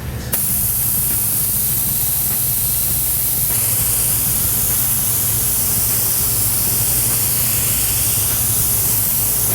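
An airbrush mists a silver mixture at low pressure with the trigger barely pulled, producing a loud, steady hiss of spray that runs unbroken with no voices.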